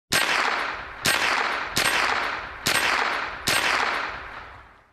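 Gunshots in a VR practical shooting game with steel-challenge targets: five sharp, loud reports at uneven intervals of about a second, each followed by a long ringing decay, with no talking.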